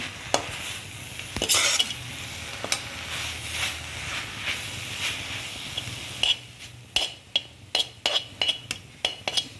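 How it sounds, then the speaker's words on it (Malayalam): Spoon stirs drumstick-leaf egg thoran in a hot pan after salt goes in, with a steady sizzle, scraping swirls and a run of sharp metallic clinks and taps near the end, close and clear with no talk. "ഇതൊന്ന് നമുക്ക് ഇളക്കി കൊടുക്കാം."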